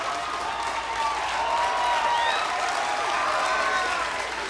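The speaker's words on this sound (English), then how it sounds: "You're clapping for that?" A large audience at a conference session claps steadily throughout, a dense wash of applause with some voices and faint cheering mixed in.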